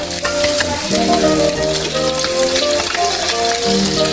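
Food fries steadily in a pan with a loud, close sizzle. Stirring clatter and a faint tonal hum from the cooking run beneath it the whole time.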